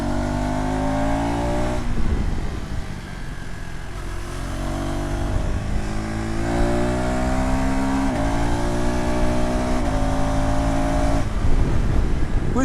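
A KTM Adventure 390 motorcycle accelerating hard with quick-shifter gear changes: engine pitch climbs steadily, drops briefly at each shift about every two seconds, then rises again, loud and continuous.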